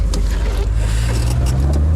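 A 1989 VW Golf 1 Cabriolet with a 1.6 engine drives and turns near a forest, its low steady engine drone and road rumble heard from onboard, loud and continuous without pauses.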